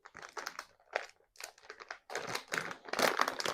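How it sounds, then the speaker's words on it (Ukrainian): Plastic zip-lock pack of spicy Skittles candy being worked open, with bursts of close crinkling and crunching that come in stops and starts and grow louder and denser toward the end. "Так, ось ми відкрили. До речі, зручно, що зіп-пакетик."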